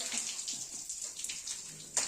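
Hot water is poured and splashed over a Hallikar bull during washing, a continuous close watery splashing with small irregular splatters throughout and no clear talk.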